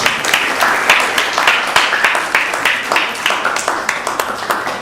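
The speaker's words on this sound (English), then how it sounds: "Please give them a big round of applause again." An audience gives a round of applause for a family at a Sunday feast gathering, with individual claps distinct and closely spaced, moderately loud and continuous throughout.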